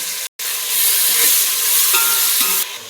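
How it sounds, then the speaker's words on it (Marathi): Garlic-ginger paste for biryani sizzles loudly in a hot pan, a dense continuous hiss that swells after a brief gap at the start and carries on close up with faint stirring. "आता हे टाकूया आपण लसूण अद्रक केलेली पेस्ट."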